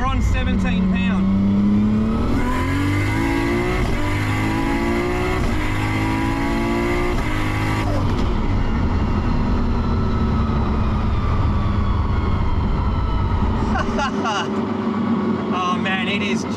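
A Nissan Skyline GT-R with an RB30 engine at 17 psi boost accelerates hard, rising revs climbing through gear changes, loud from inside the car, with a voice heard over it.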